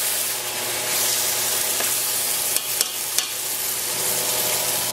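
Tomatoes cooking down into a soft sauce in a pan, with a constant close sizzle and stirring scrapes, plus a few brief sharp clicks near the end, no talking.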